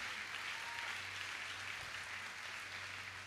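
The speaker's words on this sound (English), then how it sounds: "Clap your hands again to the Lord." Church congregation clapping their hands during a worship service, a dense, continuous patter of applause heard at a distance and fairly quiet, with a low steady hum underneath.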